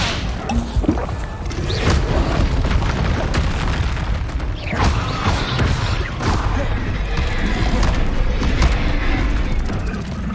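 Fire spells cast in Hogwarts Legacy burst out as repeated booming, crackling blasts amid constant combat noise, loud and dense throughout with sharp impacts scattered across the stretch.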